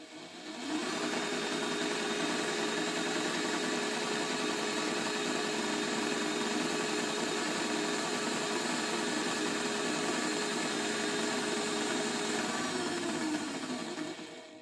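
A Hornby Thomas model train runs at full power, its motor and wheels making a loud, steady whirring rush that holds unbroken for the whole stretch, close by and with no voices.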